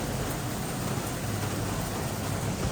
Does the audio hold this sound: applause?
no